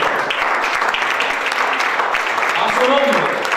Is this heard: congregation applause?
yes